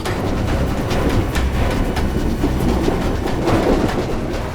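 A passenger train runs steadily, heard from inside a compartment, with a constant low rumble and faint rhythmic clatter of wheels over the track and no voices.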